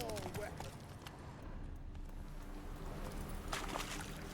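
Horse hooves gallop in a steady clip-clop rhythm across The Witcher 3 game world, fairly loud and continuous under ambient game sound, with a few brief voice-like tones.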